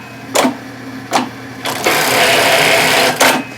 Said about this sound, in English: This is a bar tack. It's going to do 42 stitches in less than 2 seconds.